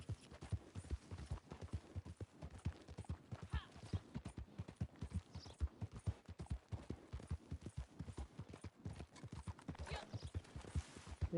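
Horse hooves clip-clop in a steady, rapid rhythm as a rider travels in a video game, a continuous even gait at moderate volume with no talking.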